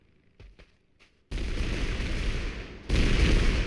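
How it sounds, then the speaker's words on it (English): Grenade explosion in the video game TABG, a sudden loud blast after a few faint taps, followed by a rumbling roar and a second heavy burst near the end. "So I'm just going to chuck a grenade in here."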